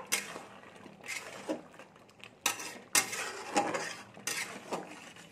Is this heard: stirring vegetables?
yes